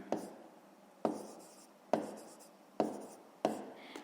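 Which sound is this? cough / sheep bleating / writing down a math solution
writing down a math solution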